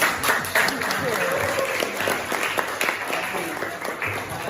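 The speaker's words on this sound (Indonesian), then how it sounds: "Berikan aplaus untuk kalian semua." Students applauding in a classroom after group presentations, a lively burst of many hands clapping at close range that carries on steadily, with a voice speaking over it.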